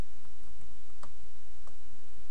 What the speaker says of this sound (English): Use a keyboard shortcut here,